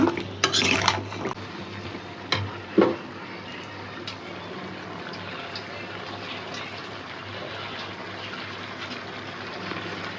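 Radish with shrimp sautéing in a pan in a home kitchen: a spoon scrapes and clatters against the pan in a few sharp strokes early on, then softer steady stirring over a low, continuous background.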